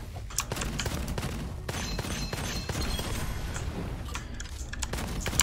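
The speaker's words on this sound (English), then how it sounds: "I am missing all my shots" Gunfire from weapons in the video game Gunfire Reborn: a steady clatter of repeated shots with sharp individual cracks, fairly loud throughout with small bursts near the end.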